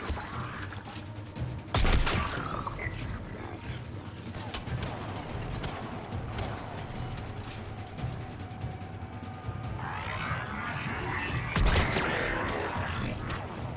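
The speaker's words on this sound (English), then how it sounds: "I am using a very shitty sniper rifle" Loud, sharp gunshots from a sniper rifle in Mass Effect 3, two heavy cracks spaced apart amid rumbling combat noise, mechanical clatter and background game sounds.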